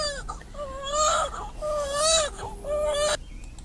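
A newborn baby girl cries after being delivered on the side of a highway, with repeated wavering wails up close, loud and continuous for several seconds.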